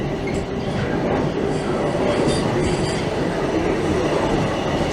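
A Toronto subway train rolls into a station platform, with a steady loud rumble of wheels and carriages and faint squeals throughout, close and continuous.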